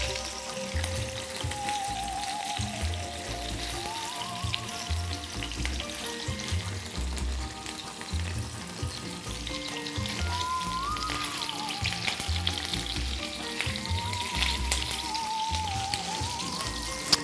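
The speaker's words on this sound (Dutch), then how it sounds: "terwijl de slavinken nog even doorbakken" Steady sizzling and crackling of slavinken, Dutch bacon-wrapped minced meat rolls, frying in a pan, continuous and close, with soft music playing underneath.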